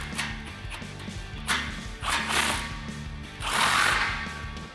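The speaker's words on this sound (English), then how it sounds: "now when I tighten down this clamp, I'm gonna get it nice and snug" Ratchet wrench tightening an exhaust clamp on a 2019-2020 RAM 1500 5.7L during a Corsa dual exhaust install, with repeated bursts of close mechanical clicking and rasping in short strokes over a low steady hum.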